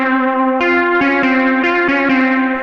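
An analog-style synth tone with pulse-width LFO modulation and vibrato, set in a modern Italo house production, plays a rich buzzy sustained note that repeatedly retriggers and wavers, loud and steady with no talking.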